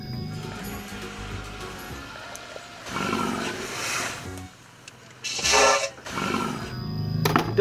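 A toy lion lets out a roaring sound effect, a rough, continuous growl that swells and fades in bursts, loud and close over a busy background of other noise.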